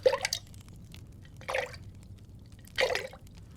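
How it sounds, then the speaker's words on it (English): Water scooped up and folded over itself in a potion-making ASMR roleplay: three separate soft, wet splashes and drips, close and quiet, spaced about a second and a half apart against a faint low hum. "you want to make sure that you sort of pick up the water and flip it over itself"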